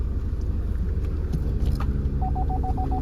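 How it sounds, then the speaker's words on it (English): Inside a Vauxhall Astra GTC 2.0 CDTi BiTurbo diesel, the reverse parking sensor sounds a rapid run of evenly spaced short beeps over the low rumble of the idling engine. "reverse park distance control audible as you can hear"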